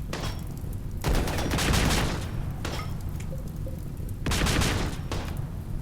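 Turret gunfire from the video game RimWorld sounds as loud, dense bursts of rapid shots in three clusters, each a roaring volley that fades between bursts, with no talking.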